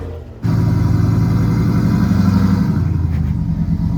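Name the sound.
Jeep engine driving up a trail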